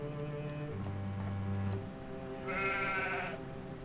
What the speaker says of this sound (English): Two little goats are shivering inside.